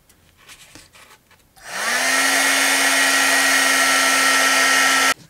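A heat tool starts up after a brief quiet moment and blows steadily and loudly for several seconds, warming embossing powder on a mixed media collage piece from underneath, with a constant whirring fan tone.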